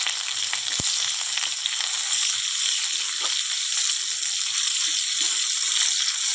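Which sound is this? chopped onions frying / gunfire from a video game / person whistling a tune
chopped onions frying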